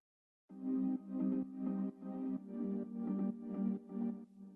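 Sustained electronic synth chords from a progressive house breakdown pulse in steady rhythmic swells, a warm harmonic pad repeating about once a second, alone and fairly loud.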